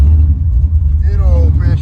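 A cold Camaro Z/28 engine running with a deep, steady low rumble close by, and a voice briefly heard over it near the end.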